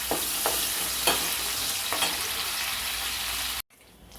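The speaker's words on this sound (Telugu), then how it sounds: "ఎండ్రోలు వేగిపోయి కదండి" Dry prawns frying in an oil-filled pan with curry leaves and cumin, a loud, steady sizzle with soft periodic scrapes from stirring, cut off abruptly near the end.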